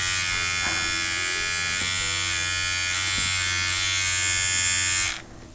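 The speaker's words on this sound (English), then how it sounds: "You could hear how it's a little bit noisy, but it gives a good vibration." An electric vibrating scalp massager runs steadily and close by, giving a loud, even buzzing hum for about five seconds before it switches off abruptly.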